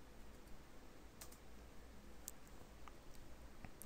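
Typing on a computer keyboard, a few sparse, faint key clicks over quiet room hiss with no talking.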